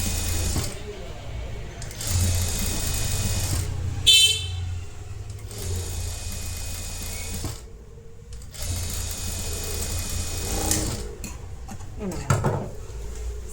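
A sewing machine stitches a netted blouse in several bursts of rapid whirring, separated by short pauses and soft clicks of the mechanism, close and fairly loud.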